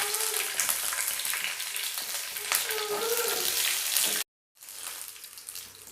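Green chillies and dried red chillies fry in hot oil for poori potato masala, a dense, steady close-up sizzle that briefly cuts out before resuming more softly.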